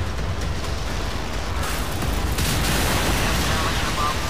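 Game battle noise from Modern Warships, with a helicopter being destroyed amid dense, continuous explosion and gunfire rumble that stays loud and steady throughout, with a brighter burst partway in.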